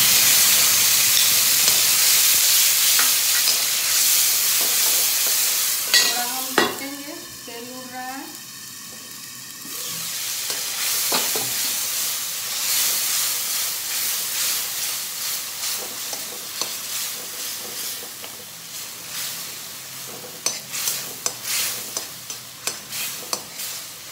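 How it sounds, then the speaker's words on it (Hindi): Onion, tomato and ginger paste poured into hot oil with browned cumin in a pan for a pea and mushroom curry, a loud hissing sizzle that drops briefly, then resumes with steady stirring scrapes and bubbling, close up. "और ये दोस्तों प्याज और टमाटर अदरक सबका पेस्ट है, वो मैं डाल दे रही हूँ।"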